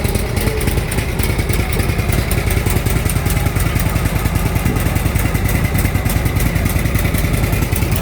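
A motorcycle engine runs steadily and loud throughout, a continuous mid-pitched rumble with a fast chattering pulse, held close and even with no rise or fall.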